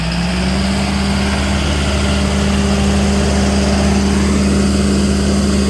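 Cummins diesel engine on a 2020 Rayco RG74T remote-control tracked stump grinder starting up and settling into a loud, steady close-range idle with a constant low drone.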